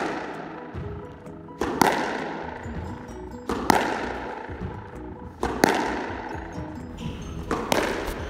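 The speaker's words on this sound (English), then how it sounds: "Here we have the forehand straight drive." A squash ball struck with forehand straight drives on a court, four sharp, echoing cracks spaced roughly two seconds apart, each followed by a ringing court reverberation.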